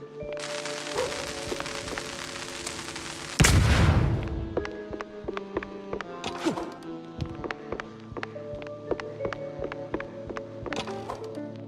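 Firecrackers going off inside a wooden attic, one big loud blast followed by many sharp, scattered cracks and pops over a backdrop of tonal game sounds.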